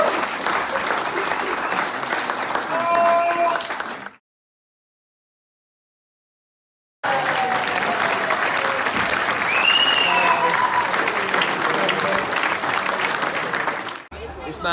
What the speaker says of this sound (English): let's have a massive round of applause for the last speaker of the conference, Jon Asquith